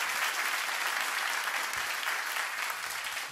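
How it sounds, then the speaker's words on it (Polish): Audience at a live concert applauds the keyboard player, a dense, steady wash of clapping holding at full strength from start to finish with no pauses. "Wielkie brawa."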